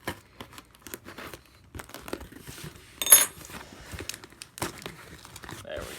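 A sharp blade cutting open the packaging of a Rivarossi Norfolk & Western Y6b model train box, with irregular crinkling, scraping and tearing of plastic and cardboard close by, one louder rip midway and faint talk between.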